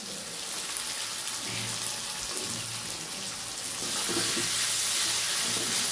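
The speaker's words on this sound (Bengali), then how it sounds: "কেন বলুন তো, কড়াইশুঁটিটা ফটফট করে ফাটে।" Green peas frying in a kadai, crackling and popping in hot oil: a continuous sizzle with scattered sharp pops that grows louder and busier toward the end, close by, with no talking.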